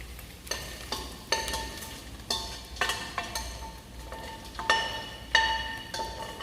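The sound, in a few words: calabresa sausage added to ground meat in pan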